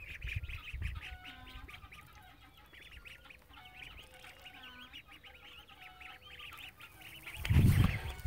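Young ducks call with repeated short quacks and clucking throughout, fairly close, with a louder burst of activity near the end and no talk.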